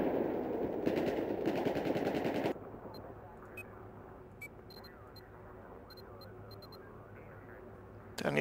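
Battlefield 4 gunfire rattles in a dense, loud automatic burst for the first two and a half seconds, followed by quieter in-game ambience with scattered sharp clicks and faint distant shots.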